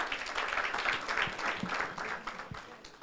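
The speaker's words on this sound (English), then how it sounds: "Can you clap for her, please?" Audience clapping at a leadership talk, a loose patter of many hands that stays fairly steady over a few seconds, with a couple of louder individual claps standing out.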